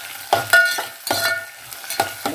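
Tomato pieces sizzle and are stirred in a pan while carrot upma cooks, with loud, close scraping stirs at an uneven rhythm over a light frying hiss and no voices.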